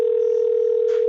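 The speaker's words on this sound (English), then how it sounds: "I'm sure people like that dial tone too" A telephone dial tone while a call to a guest is being placed, one loud, steady, unbroken pitch that holds for about a second.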